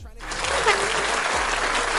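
A round of applause on a sports talk show, a dense, loud wash of clapping that runs unbroken for about two seconds.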